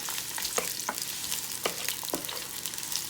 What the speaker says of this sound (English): I'm putting my purple onions in here,